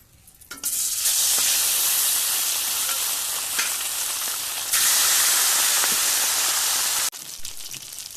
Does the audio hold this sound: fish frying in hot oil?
yes